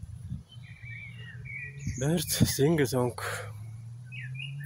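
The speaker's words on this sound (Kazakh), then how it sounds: "Құстар өлең айтып жатыр" Birds chirp and sing in a forest park near a small airport, a run of bright whistled phrases in the middle with scattered calls around them, while a person speaks in the foreground over a low background hum.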